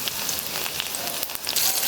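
Crushed garlic cloves sizzle and crackle steadily in hot oil in a pan, a brief close-up frying hiss.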